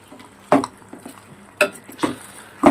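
A mutton curry with ginger-garlic paste and onions being stirred in a pan, a spoon scraping and clinking against the metal in a few separate strokes, close and fairly loud.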